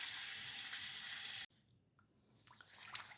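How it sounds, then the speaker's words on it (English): A kitchen sink fills from the tap for washing freshly harvested basil, a steady loud rush of running water that cuts off abruptly partway, followed by faint drips and small clinks. "I'm going to fill the sink up with water so we can get it washed."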